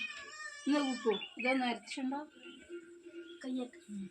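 A kitten meows several times close by, high and plaintive, in short repeated cries with brief pauses between.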